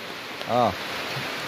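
Steady rain falls outdoors as a continuous broadband hiss, with a brief voice or call rising over it midway through.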